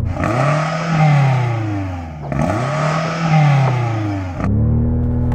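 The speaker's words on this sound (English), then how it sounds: "I'm revving up the BMW." A BMW M5 sports sedan engine revs hard twice, pitch climbing and stalling at the soft limiter with a stuttering bounce, then dropping back; loud and close, no talking.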